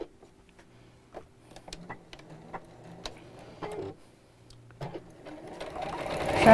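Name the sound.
sewing machine stitching a gift bag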